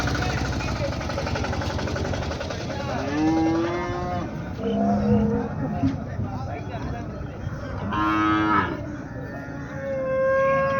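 Water buffaloes at an Erode livestock market, several loud, long moos rising over a crowd of people talking nearby.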